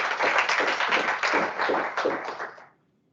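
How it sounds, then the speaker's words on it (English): A conference audience at a university celebration of excellence event breaks into dense, sustained applause that holds steady for about two and a half seconds, then stops abruptly into silence. "So give them a big round of applause."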